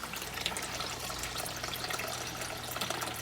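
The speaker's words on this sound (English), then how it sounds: "The water's being drained out of the bed very aggressively." Water drains forcefully out of a grow bed through an external siphon, a steady rushing gurgle of flowing water at moderate level from start to finish.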